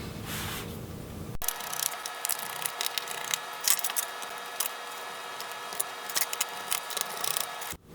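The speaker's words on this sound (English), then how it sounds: "So we will go ahead and remove the screws." A screwdriver removes screws from the bottom case of an HP Pavilion 14m laptop, making close, dry scraping and rubbing sounds in short, uneven bursts.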